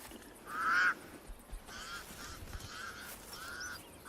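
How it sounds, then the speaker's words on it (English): Pied crows giving alarm calls in the African wild near elephants: a few faint, distant, harsh honking caws, one louder call early and then several weaker repeats. "The pied crows sound the alarm again."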